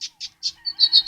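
A lined seedeater (bigode) sings up close, a few short bright chirps followed by a rising, rapid trilled phrase, loud and clear against silence.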